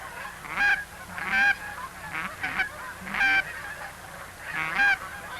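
Geese honk repeatedly in spaced bursts, roughly five loud calls over several seconds, close and clear with a faint outdoor background.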